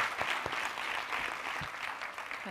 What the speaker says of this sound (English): applause for Johan.